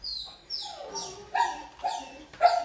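A puppy at a pet adoption center gives a string of soft, high, drawn-out whines and whimpers, about six in a row, quiet and close.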